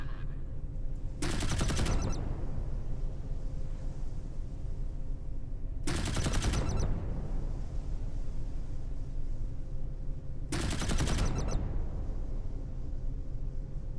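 Warship cannons fire in a naval video game battle: three loud, separate rolling volleys spaced several seconds apart over a low, steady engine hum.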